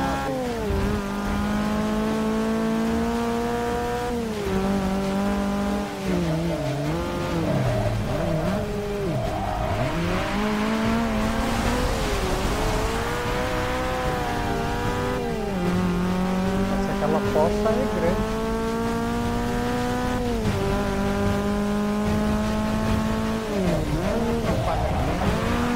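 A race car engine revs up and down continuously in the Forza 6 video game, with shifting pitch sweeps and occasional tire noise, loud and steady throughout.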